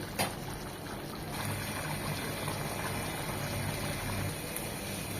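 Chickpea curry gravy simmers uncovered in a pan, reducing for an iftar-style boot bhuna; a steady close bubbling and burbling continues throughout, with a brief louder clatter near the start and no talking.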